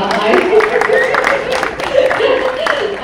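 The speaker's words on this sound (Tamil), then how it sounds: "ஸோ நமக்கு ஒரு கைத்தட்டல்" An audience at a movie press meet claps and cheers for about three seconds in a lively, continuous burst, with voices mixed in through the crowd noise.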